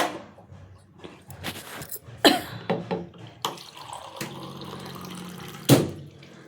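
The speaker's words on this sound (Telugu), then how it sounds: "కొంచెం వాటర్ మిక్స్ చేసి వేస్తాము" Water poured into a juice mixture and stirred, heard as a few short splashes and sloshing bursts with some clinks, close by and without speech.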